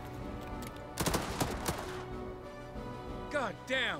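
Gunfire in the World War II video game Headquarters: World War II: a sharp cluster of rapid shots in the middle, set against game background noise with voices talking around it.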